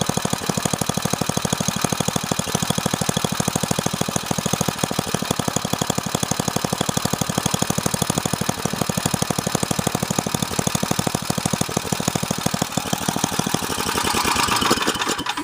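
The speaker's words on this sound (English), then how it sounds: "This is the Husqvarna 926E, and it has a 26-inch cutting path here specifically for the yard or your driveways" A Husqvarna 926E snowblower with a 26-inch cutting path runs close by, its small engine chugging in a loud, rapid, steady rhythm that swells slightly near the end, with no voices.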